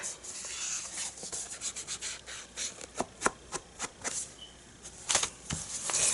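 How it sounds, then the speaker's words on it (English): Scorched Timber ink is rubbed onto paper edges for a scrapbooking page, producing a series of close, brushy swishing strokes in an uneven rhythm, some sharper and louder than others. "we are gonna do a tiny bit of inking"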